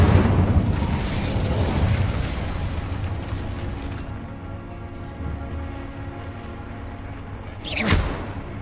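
Incendio fire spell in Hogwarts Legacy: a loud, dense roaring burst of flame and mechanical crackle that slowly fades, then a sharp whooshing flare near the end.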